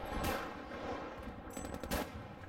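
Bolt-action rifle fire in Battlefield V: a few sharp, distant-sounding shots with short gaps between them, set against battlefield rumble.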